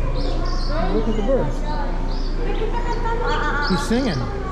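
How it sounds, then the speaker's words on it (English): An American robin sings outdoors at a museum of life and science, its bright, warbling phrases clear but mixed under people chatting nearby and a steady low background hum. "That's an American robin."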